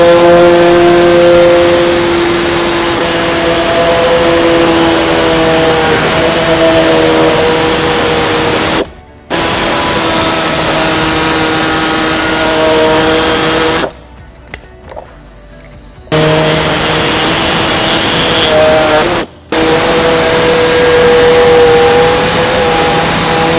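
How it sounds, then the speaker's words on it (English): A pneumatic air saw cuts underbody panel sections on a 2020-2024 Toyota Highlander during a trailer hitch install. It makes a loud, close, continuous buzzing whine that stops briefly three times before resuming. "we're going to use an air saw to cut out these 2 sections"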